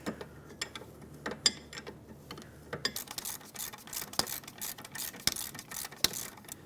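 A ratchet wrench snugs up parking brake bolts on a 2013-2020 Nissan Pathfinder, giving sparse close clicks at first, then quicker ratcheting clicks with metallic taps.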